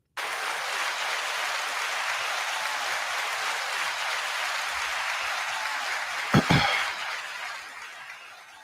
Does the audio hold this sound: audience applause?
yes